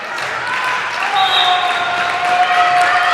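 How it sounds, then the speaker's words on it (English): Crowd noise and cheering in a gym during a girls high school volleyball match between West Allis Hale and Germantown, a steady loud roar that builds, with a voice talking over it. "Crowd's starting to get into it a little bit."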